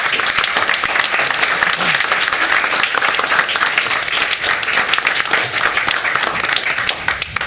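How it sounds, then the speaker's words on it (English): A round of applause at a school district board meeting honoring teachers, counselors and students, a dense, loud, continuous crackle of many clapping hands sustained for the whole stretch. "Let's give everybody one more round of applause."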